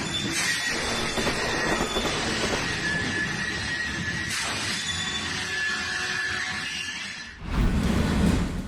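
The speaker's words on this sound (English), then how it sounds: "A train derailed while crossing an intersection north of Saskatoon." A train derailing while crossing an intersection north of Saskatoon: a loud, continuous rolling rumble threaded with high metallic squeals, ending in a heavier, louder surge of noise in the last second or so.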